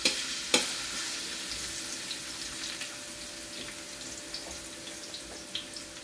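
Garlic fries in cooking oil for pansit bihon, giving a soft, steady crackle after a couple of sharp clinks at the start, with faint utensil taps scattered through the quiet sizzle.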